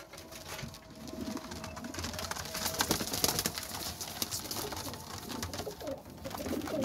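Young flying pigeons, including Sialkoti birds, coo softly and repeatedly in a loft, with their low murmuring calls layered over steady background noise.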